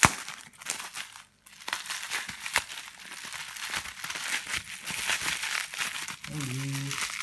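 A heavily taped envelope of Pokémon cards is torn and unwrapped close by, with crinkling paper and tape ripping in irregular bursts, while a person speaks quietly.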